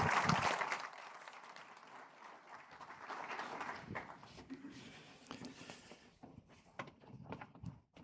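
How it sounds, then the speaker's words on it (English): Audience applause at a maritime industry launch event, a broad wash of clapping that starts strong, then thins and fades to scattered claps with some murmuring underneath. "a warm round of applause for Arsenio"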